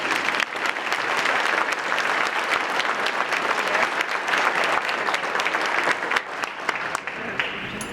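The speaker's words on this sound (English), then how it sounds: "Let's give a round of applause." A luncheon audience at a chamber of commerce community event applauds, a dense, sustained wash of many hands clapping that holds strong for several seconds before easing slightly at the end.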